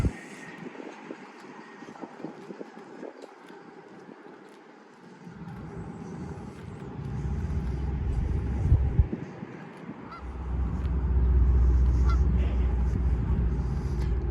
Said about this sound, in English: Lots of geese everywhere, always.